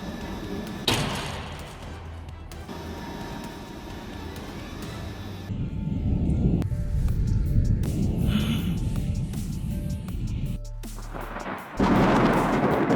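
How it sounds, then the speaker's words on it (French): A truck tire explodes with a sudden loud blast, followed by a long stretch of rumbling noise, then a second sharp explosion hits near the end. "les pneus de gros camions, car la forte pression à l'intérieur peut les faire exploser comme des bombes"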